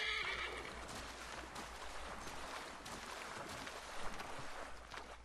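A horse neighs and whinnies in Assassin's Creed 3 near a lake, a loud call at the start followed by splashing, clip-clopping movement.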